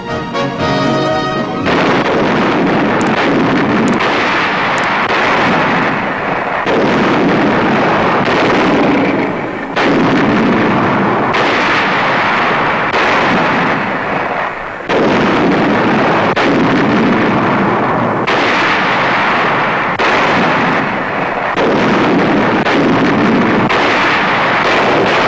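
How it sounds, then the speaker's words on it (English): A WWII Allied artillery barrage of Long Tom guns and howitzers in Italy, in 1944 newsreel sound: loud booming blasts follow one another every few seconds, a continuous pounding with no talking. "Long toms and howitzers on target, and the enemy is subjected to a pattern of firepower that is devastating."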